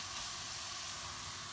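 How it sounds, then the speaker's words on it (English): Riced cauliflower tipped into a hot frying pan sizzles with a dense, continuous hiss, loud and close, with no talking. "I've already made it into rice. And I'm just going to tip it in there in the frying pan."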